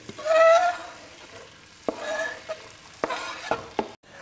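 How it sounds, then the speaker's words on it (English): Chopped onion drops into a hot pan for risotto and crackles into a brief loud sizzle, followed by a softer hiss and several sharp knocks of a utensil against the pan. "Now, onion goes in."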